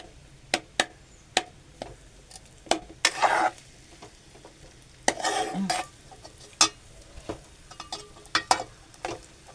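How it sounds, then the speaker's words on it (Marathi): Schezwan rice is stir-fried in a pan, with repeated sharp knocks of a spatula against metal and two louder bursts of scraping and tossing over a low sizzle, close and rhythmic. "आपण परतून घेऊ."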